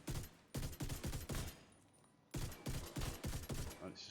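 Rifle fire in a video game comes as bursts of rapid, sharp shots, two clusters separated by a short lull, fairly close and fairly faint.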